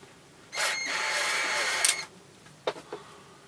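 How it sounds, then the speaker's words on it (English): Hand drill boring through a handmade bushcraft long-stem pipe, a close steady grinding whir for about a second and a half, then quiet with a few sharp clicks and knocks. "All a bit boring watching somebody drill, but you know, I'm just showing you how it's done."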